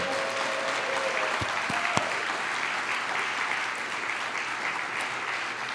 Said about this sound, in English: And you can all clap at that.